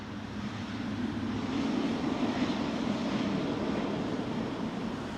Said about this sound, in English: So when he pulls the throttles back, the system automatically kicks in with the reversers.